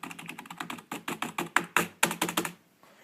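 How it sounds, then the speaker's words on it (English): Fast, steady typing on a Logitech K120 rubber dome keyboard, about twenty close, crisp key presses in an even rhythm before a short pause. "I have the Logitech K120 keyboard in here."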